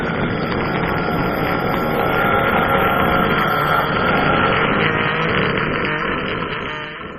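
Enderman sound effect from the Minecraft video game: a harsh, distorted, buzzing roar sustained at high volume for about seven seconds, fading slightly at the very end, with no voices over it.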